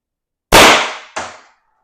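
Two sharp paintball marker shots from an X.68 fitted with a tuning chamber crack out close and loud, the second a moment after the first and a little quieter, each tailing off quickly.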